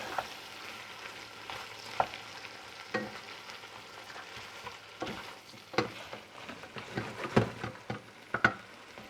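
A spoon stirs carabinero prawn heads into a sauce in a pan, giving soft, irregular scraping and wet sizzling taps over a low frying hiss, with sharper clicks now and then and no talking.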